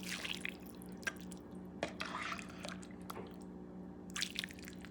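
Broth pouring into a ramen pot with Spam and pineapple, a faint, soft liquid splashing and dripping with a few small squishy bursts, quiet and close with no talking.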